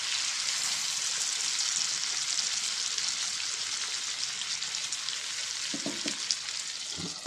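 Stuffed brinjals fry in a pan with a steady, bright sizzle that hisses continuously, close and moderately loud, with a few faint stirring knocks near the end.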